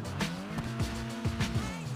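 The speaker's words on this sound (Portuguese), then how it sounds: "olha o ronco desse carro, mano" A tuned Honda Civic with a turbo in GTA Online roars as it revs, its engine tone rising and dropping through quick shifts, with short bursts of tire squeal, loud and close.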